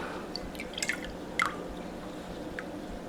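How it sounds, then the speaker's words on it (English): Water poured into jars of raw corn for pressure canning, heard as a few scattered drips and small splashes over a quiet low hum, sparse and close. "Next thing is we're going to add water."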